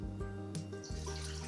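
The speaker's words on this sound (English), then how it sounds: "we're just going to put some water into our Instant Pot" Water pours steadily into an 8-quart Instant Pot for about a second and a half, a close, continuous splashing stream with no talking.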